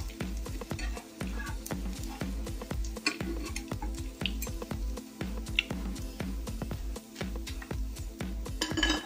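Fried anchovies lifted with a spoon out of a hot pan of oil, steady sizzling under repeated scraping and clinking of metal against the pan, close and continuous with no talking.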